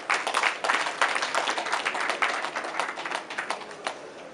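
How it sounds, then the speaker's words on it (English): An audience claps for the speakers at a formal institute gathering, a moderate burst of many hands with distinct sharp claps standing out, fairly even then gradually thinning toward the end. "Let's give them a round of applause"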